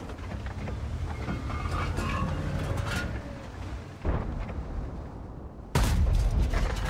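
Incoming artillery shells in a World of Tanks battle fought in the Mauerbrecher heavy tank: a continuous rumbling battle din broken by a sharp impact near four seconds and a louder, heavier blast near six seconds.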